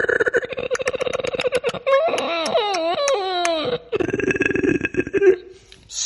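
A human voice imitates a creepy underdark monster such as a hooked horror. Rapid throaty clicking builds into a wavering, high, pterodactyl-like screech, then the clicking returns, all loud and close.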